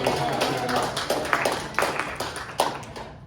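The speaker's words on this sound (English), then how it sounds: "Big round of applause." A small audience at a performance and conversation event claps, sparse and uneven: a few sharp, separate hand claps ring out over a low background, fairly faint.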